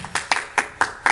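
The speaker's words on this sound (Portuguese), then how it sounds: "Dá uma salva de palmas para Jesus Cristo." A church congregation claps in a round of applause, five or six distinct sharp hand claps in a quick, slightly uneven rhythm, close and fairly loud.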